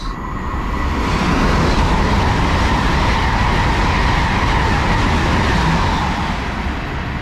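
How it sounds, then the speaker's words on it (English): An LNER Azuma train from London King's Cross to Edinburgh passes through a station on the southern East Coast Main Line, a loud, close, continuous roar and rush of wheels that holds steady throughout, with no voices. "Right, passing through now, I've got an LNER zoomer to Edinburgh from London King's Cross."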